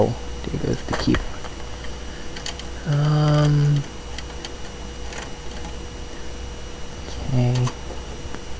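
Typing on an old PC keyboard during a Windows 10 install, with scattered close key clicks and taps alongside two short electronic beeps, over a steady background hum.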